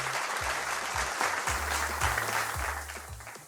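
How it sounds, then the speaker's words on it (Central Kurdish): Strong audience applause fills the room at a Kurdish TV show, dense steady clapping throughout with low musical tones underneath, fading slightly at the end. "چەپڵێکی بەهێز"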